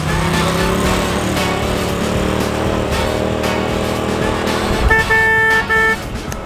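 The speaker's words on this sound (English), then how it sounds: "Oh, they're honking the horn." Over a loud running engine and road rumble, the horn of a turbo Polaris RZR side-by-side honks in a couple of sustained blasts near the end.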